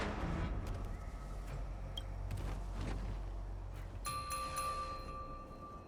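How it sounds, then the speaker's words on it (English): Harmonic chime ringing in the Honkai: Star Rail video game, a clear sustained bell-like tone that enters partway through over a low rumbling game ambience. "We could try ringing the harmonic chime."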